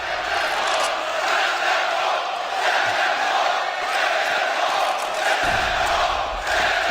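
A large esports arena crowd roars and cheers during a CS:GO semifinal match at Agganis Arena in Boston, a dense, sustained wall of noise with shouts rising from it throughout.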